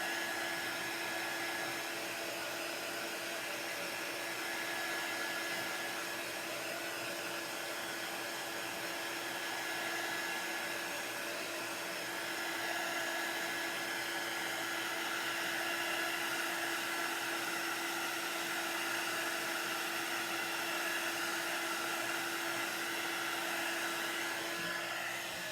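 A hand-held dryer blows continuously for the whole stretch, drying paint on a wooden farm stand sign with a loud, steady whooshing roar and a constant whine that stays close and unbroken.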